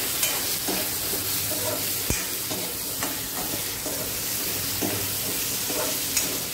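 Potatoes and okra with salt and turmeric frying in a pan, a close steady sizzle broken by a few scraping stirs of the spatula, no speech.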